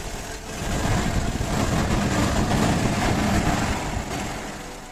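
A car engine fitted with electronic fuel injection revs up from idle, rising into a louder sustained roar for a few seconds and then easing back down.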